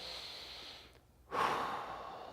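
A person lies on their back doing a diaphragm breathing exercise and lets out a long, airy exhale after a brief pause, soft and close with no talking.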